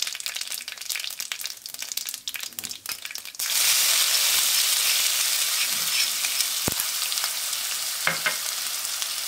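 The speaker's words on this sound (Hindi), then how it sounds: "अच्छे से क्रैकल हो रहा है, मैं इसमें प्याज और अदरक लहसुन डालूंगी।" Chopped onion, ginger and garlic drop into hot oil with crackling mustard seeds and cumin, bursting into a loud, steady sizzle after a few seconds of quieter popping, with a stirring clatter near the end.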